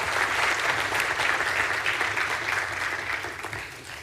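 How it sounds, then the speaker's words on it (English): An audience applauds at a televised dialogue event, a dense burst of clapping that holds steady and then begins to fade toward the end. "Why don't you give a big applause for Mr. Summers?"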